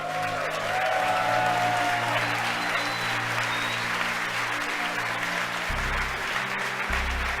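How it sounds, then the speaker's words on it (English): Loud, sustained applause from a crowd watching the SpaceX Falcon Heavy launch fills the whole stretch, a dense wash of clapping over a low steady hum. "You can hear the applause behind me"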